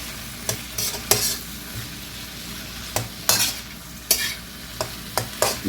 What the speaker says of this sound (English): Because I added these cold shrimp.